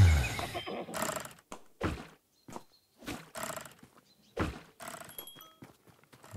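A horse in the Tavern Manager Simulator video game neighs and whinnies in a run of loud, close calls separated by short pauses, with a few dull thunks between them.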